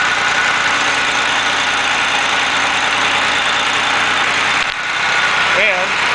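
A car engine runs at a steady, loud idle during a repair job, with a continuous rumbling drone and a short voice near the end.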